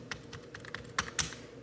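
Keys tap on a wireless computer keyboard being tried out in a home, with about a dozen light, uneven clicks over under two seconds, close but soft, with no talk.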